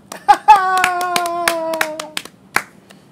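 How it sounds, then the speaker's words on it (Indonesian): A few sharp hand claps ring out close by in a small group on a climbing podcast, mixed with a tonal voice-like hum, then trail off into quiet. "Aplaus dulu"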